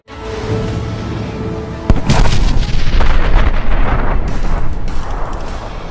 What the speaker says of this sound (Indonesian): semua orang tiba-tiba saja dibangunkan oleh suara ledakan yang berasal dari pegunungan